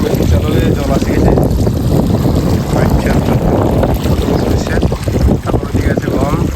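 An irrigation water pump engine runs in a village field with wheat, potato and mustard crops, a loud, steady, close rumbling drone heard without a break, with rough wind buffeting on the microphone.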